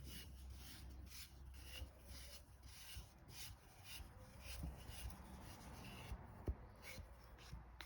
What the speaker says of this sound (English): You need to do it when it's bone dry, and then you just gently take those burrs away.